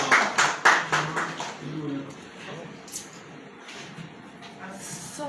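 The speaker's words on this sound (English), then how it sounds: "Keep clapping, keep clapping." Audience at a legislative consultation claps to welcome the keynote speaker: a few loud, distinct claps up front, then fading scattered clapping under speech.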